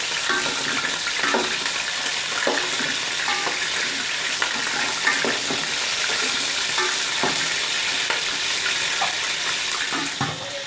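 Chicken frying in hot oil in a pan for a desi murgh curry, with a steady, dense sizzle running throughout, broken by occasional sharp crackles and stirring clinks up close.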